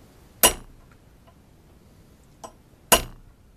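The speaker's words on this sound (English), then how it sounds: "We're going to take that center punch." A hammer strikes a center punch on metal: two sharp metallic strikes ring out a couple of seconds apart, with a fainter tap between them, in an otherwise quiet space.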